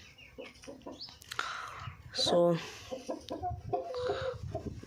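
Chickens cluck and squawk in a chicken coop, several birds calling close by in short bursts while someone talks over them.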